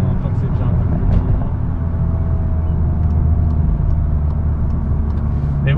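A Seat Leon Cupra engine in sport mode drones steadily at around 3000 rpm, a constant in-cabin hum with low rumble throughout, and a voice speaks over it.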